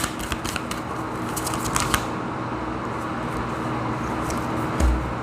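Oracle cards, including a Keepers of the Light deck, are shuffled and drawn. Several soft flicking riffles come in the first two seconds, close by, then a steady hum runs on alone.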